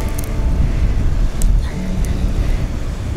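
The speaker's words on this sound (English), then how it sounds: "sound's going to be very windy" Strong winter storm wind buffets the microphone on a sea-glass beach, a loud continuous roar and rumble with surf mixed in.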